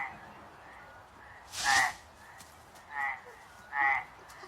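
Frogs croak in a forest, three separate calls spaced about a second apart, soft and distant over quiet background hiss.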